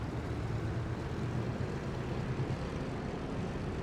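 An aircraft engine in Microsoft Flight Simulator 2024 on PS5 throttles up, giving a dense, steady propeller drone with a strong low rumble that holds even and close throughout, with no talk over it.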